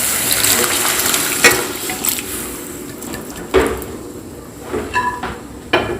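Boiled chana dal and potatoes are tipped into a pan of frying spices, giving a few wet, splashing thuds and clatters at irregular intervals over a soft background hiss.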